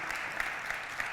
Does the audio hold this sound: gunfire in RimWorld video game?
no